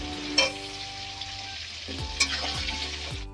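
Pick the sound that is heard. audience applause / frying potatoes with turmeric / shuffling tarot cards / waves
frying potatoes with turmeric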